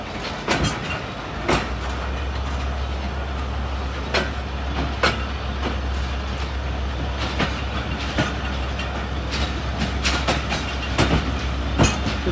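Malkwal Express passenger train, running early morning between Mandi Bahauddin and Pind Dadan Khan, rumbles steadily on the rails with a low continuous drone, recurring sharp clickety-clack wheel beats over rail joints, heard up close and alone.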